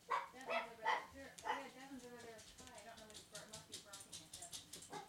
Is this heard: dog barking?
yes